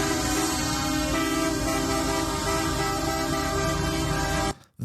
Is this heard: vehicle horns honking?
yes